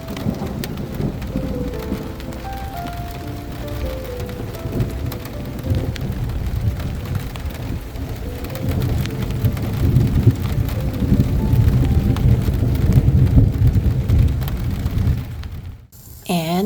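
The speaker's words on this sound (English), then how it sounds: "a thunderstorm passed through the Grand Canyon" A summer thunderstorm over the Grand Canyon brings steady rain on surfaces and deep rolling thunder that swells midway, with a voice talking over it and a sharp clatter at the very end.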